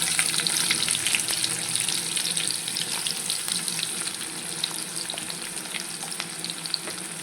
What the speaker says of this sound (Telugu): ఇప్పుడు మనం ఉల్లిగడ్డ వేసేద్దాం అండి ఉల్లిగడ్డ వేసేస్తాం